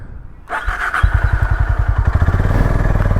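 Honda Highness motorcycle on a ride from Goa toward Pune, its engine catching and settling into a steady close thumping idle that builds into a rhythmic pulse as it pulls off.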